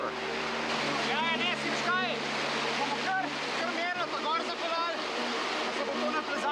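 A strong river current swollen by emergency runoff rushes steadily and loudly, a continuous broadband roar with background voices and harmonic whine sounds layered over it.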